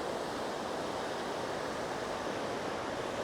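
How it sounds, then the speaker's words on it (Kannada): The Lohit river at Parashuram Kund in Arunachal Pradesh rushes past in an even, unbroken roar of flowing water, moderately quiet and steady from start to finish. "ಇದು ಲೋಹಿತ್ಯಾ ನದಿ."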